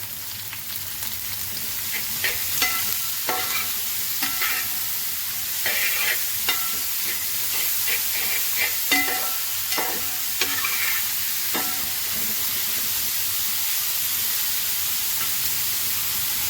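Sliced onions fry with salt in a pan for a Malayalam mutton kurma, a steady close sizzle and hiss broken by repeated scraping clicks and clatters as a spoon stirs them.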